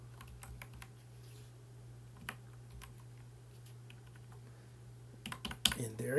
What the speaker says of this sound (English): Now I can use this keyboard and I can type.